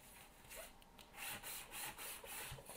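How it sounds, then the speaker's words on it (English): Shiny craft pieces are lightly sanded to take off their sheen, producing soft, close, rhythmic rasping strokes, about five or six quick passes at a low level with no voices. "I'm going to sand these just a little bit because they look kind of shiny"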